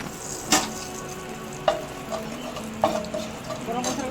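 Whole garam masala of cloves, cardamom and cinnamon frying in hot oil for a paneer dish, a soft low sizzle broken by a few sharp spoon clinks against the pan.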